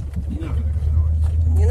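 A car engine runs during a driving lesson, a steady low drone that swells slightly as it gains speed, heard from inside the cabin beneath people talking.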